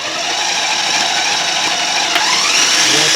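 A countertop blender whirs steadily, churning homemade mango hot pepper sauce at a low starting speed, a loud continuous motor drone with a slight rise near the end.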